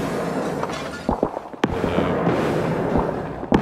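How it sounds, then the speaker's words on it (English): Grenade blasts in the shooter game Escape from Tarkov: several sharp, loud explosive bursts with crackling debris, one about midway and another near the end, over steady game noise. "Oh, he's firing grenades."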